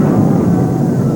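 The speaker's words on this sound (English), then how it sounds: "I couldn't ignore the helicopters any longer." Helicopters overhead, a loud, dense, continuous rumbling roar with no pauses, close and alone.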